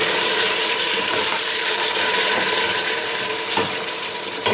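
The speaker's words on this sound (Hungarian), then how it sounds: "Egy icipici vizet ilyenkor szoktam rá lötyinteni." Water splashes onto carrots steaming in a hot pan, producing a loud continuous hiss and sizzle with bubbling crackles, close by and without speech.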